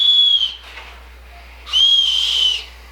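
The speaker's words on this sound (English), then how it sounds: "it even has a little whistle right here" A small whistle on an electric lighter's lanyard gives two shrill, steady blasts, a short one first and then a longer one about a second later, loud and close with no talking.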